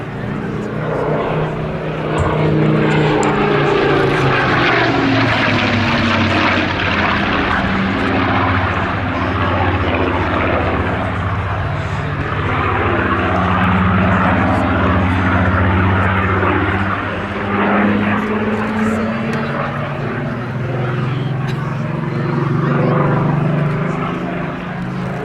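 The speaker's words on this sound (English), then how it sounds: "Spitfires of all different marks operated in the unarmed PR role." A Rolls-Royce engined Supermarine Spitfire PR.XIX flies at an air festival, its loud propeller engine droning with rising and falling pitch as it passes, while a commentator talks over it.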